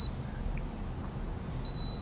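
A digital multimeter gives short, high continuity beeps: one brief tone at the start and a longer sustained beep near the end over a quiet room hiss.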